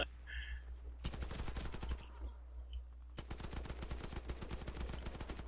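Rapid automatic gunfire in the online shooter Warface, Team Deathmatch on the Trailer Park map, with near bursts of machine-gun fire rattling through most of the clip, broken by a brief lull before a long sustained volley.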